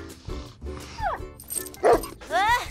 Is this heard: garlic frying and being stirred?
no